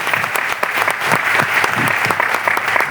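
An audience claps steadily and loudly at a motivational talk, a dense, even patter of many hands close by with no voices over it.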